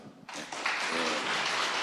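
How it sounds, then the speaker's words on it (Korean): Students applaud together in a room, a dense, steady wash of clapping that starts abruptly and holds evenly at moderate distance, with no talk over it. "우리 학생들 스스로 뿌듯한 마음 가지고 내가 참 괜찮은 놈이다 하고 박수 한번"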